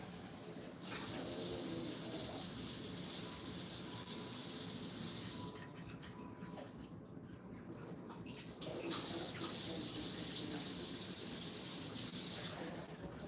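Water runs steadily from a tap into a vessel in a kitchen where bread is being made, a continuous soft hiss and splash that dips in the middle and then returns a little louder.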